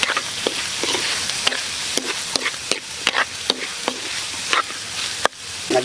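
Beef innards for dinuguan sautéing in a pan, a continuous close sizzle punctuated by sharp scrapes and knocks of a spatula stirring at an irregular rhythm, no talking.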